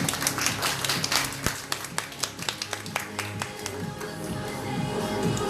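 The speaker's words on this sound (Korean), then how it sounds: "나오실 때 큰 박수 부탁드립니다." An indoor audience at a Korean wellness and diet seminar claps for an arriving speaker, steady moderate applause from a small crowd that thins toward the end, no talking.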